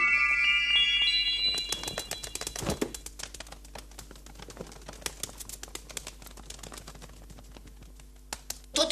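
Pigeons cooing outside an apartment building, soft repeated throaty coos with fluttery clicks and scratches nearby, fairly quiet and close, with a high tone fading out at the start.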